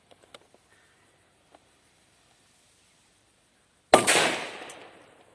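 A Pluton firecracker goes off outdoors in one sharp, loud bang that rings away over about a second and a half, preceded by a few faint small clicks and taps.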